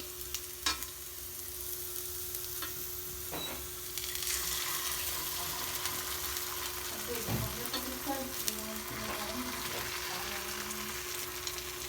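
Egg poured into a hot pan sizzles with a soft, steady crackle, a surge of frying hiss building partway through, with scattered light clinks and faint background hum.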